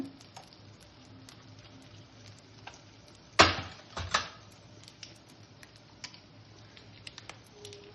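Mustard seeds and cumin dropped into hot oil for a tempering give a sudden loud sizzling burst, then a second flare, before settling back to a quiet, faint crackle.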